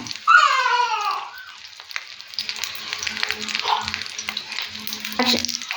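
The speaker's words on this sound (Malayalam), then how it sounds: "ഞാനിത് അടപ്പത്ത് വെച്ചു ശകലം എണ്ണയും കൂടി ഒഴിച്ചിട്ടുണ്ട്" Fish frying in a little oil in a covered pan on a stovetop in a Kerala home kitchen, a steady sizzle and crackle running through, joined by a brief high wailing sound near the start.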